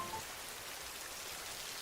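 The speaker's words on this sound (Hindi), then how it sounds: "ये बारिश तो छूटने का नाम ही नहीं लेता है" Steady, even rainfall patters on surfaces in a continuous soft hiss, moderately distant and without a break or voice.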